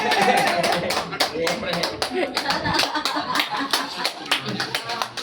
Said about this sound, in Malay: Tepuk tangan dekat sponsor.